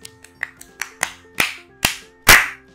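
In a video game, a short run of sharp claps, about eight in all, spaced unevenly and growing louder toward the end.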